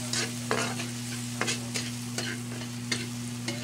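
Chopped garlic sizzles in a hot pan while a spatula scrapes and turns it in quick repeated strokes, a loud close frying hiss with sharp scraping bursts every half second and no voices.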